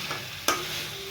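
Mutton with tomato and spices is stir-fried in a pan for curry, a soft continuous sizzle with one sharp spatula clack midway and no voices.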